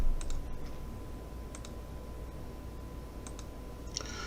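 A computer mouse clicks quietly during CAD drawing, sparse single and double clicks spread through a quiet room, with a faint tone humming underneath.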